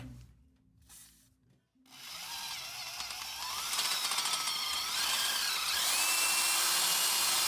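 After a couple of short bursts, a power drill whines continuously, grinding with a shifting, rising pitch, close to the listener.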